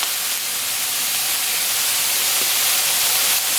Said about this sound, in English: So I'm going to let this saute a little bit, maybe get a little brown.